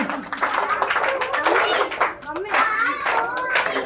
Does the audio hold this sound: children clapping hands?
yes